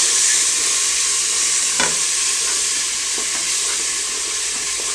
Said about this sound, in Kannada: ಈರುಳ್ಳಿ ಫ್ರೈ ಆದಮೇಲೆ ನಾನು ಗ್ರೈಂಡ್ ಮಾಡಿ ಇಟ್ಕೊಂಡಿರುವಂತಹ ಕೊತ್ತಂಬರಿ ಸೊಪ್ಪು ಪುದೀನ ಸೊಪ್ಪು ಶುಂಠಿ ಮತ್ತು ಬೆಳ್ಳುಳ್ಳಿ ಪೇಸ್ಟನ್ನು ಹಾಕ್ಕೊಳ್ತಾ ಇದ್ದೀನಿ